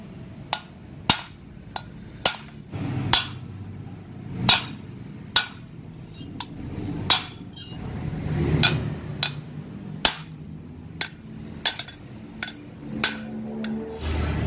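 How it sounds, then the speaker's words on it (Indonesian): A hammer strikes repeatedly on a tube-like workpiece, sharp metallic knocks arriving in a steady, somewhat irregular rhythm of about fifteen hits, close and clear over faint low background noise. "dipukul pakai palu seperti ini"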